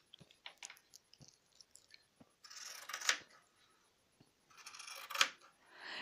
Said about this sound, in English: now I want to pink the edges with the pinking shears.